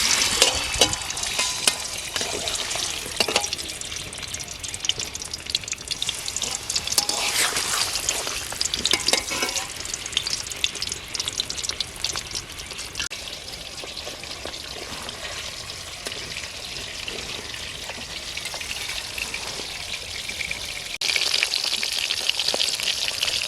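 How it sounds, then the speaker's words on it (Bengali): Fish frying in hot mustard oil in a heated wok, a steady close sizzle with stirring and scraping that runs nonstop, swelling louder near the end. "এবার সরষের তেলটা দিয়ে দেবো মাছ ভাজার জন্য।"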